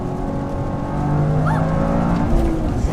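Toyota GR Corolla accelerating while merging onto a freeway, engine note rising steadily under broad road and wind noise, heard from inside the cabin with no talking.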